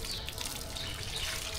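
Water sprays from a flexible rubber hose onto a dog being washed outdoors, a steady close hiss and splash running continuously with no speech.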